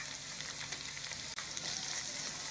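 Ginger and garlic paste fries in a pan with golden onions for beef paya, giving a soft, steady sizzle with a few faint stirring clicks and no talk.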